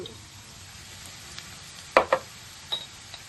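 Vegetables stir-frying in a pan for egg fried rice, a steady low sizzle with a few sharp clinks of the spatula against the pan, close up, no talking.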